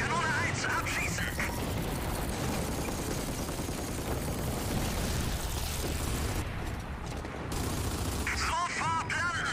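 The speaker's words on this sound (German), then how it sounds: "Kanone 1, abschießen!" Heavy cannon fire and rattling gunfire burst from the Gears of War video game, a loud continuous barrage of blasts with shouted voices mixed in.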